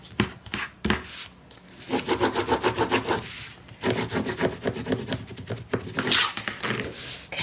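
Brown paper bag being burnished by rubbing, a steady run of close, rhythmic scraping strokes that come in bursts with short pauses between them.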